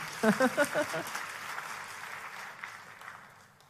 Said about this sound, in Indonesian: kalau tepuk tangannya yang meriah, saudaraku